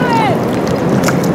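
A canoe glides on the Danube past Belgrade's bridges, giving a steady close wash of water and wind rumble with a brief high gliding tone near the start.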